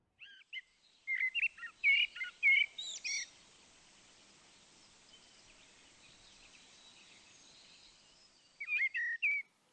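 Small birds chirp in April sunlight, a close run of bright, quick twittering calls, then a long quiet gap before another short burst of chirps near the end.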